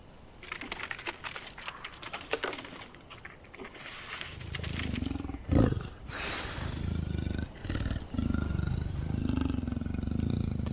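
Deep, rumbling growls and roars from a lioness chasing and clawing at a male rise in the second half over a noisy outdoor background, loud and aggressive.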